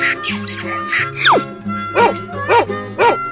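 A dog gives three short, close barks in a quick rhythm near the end, following a burst of chirpy, bird-like calls and a sliding whistle.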